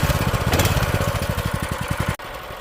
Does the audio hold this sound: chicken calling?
no